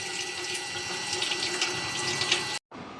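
Water from a sink tap fed by an electric pump runs steadily in a camper van, a continuous close hiss and splash with a very brief cut near the end.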